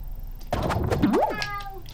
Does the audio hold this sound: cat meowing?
yes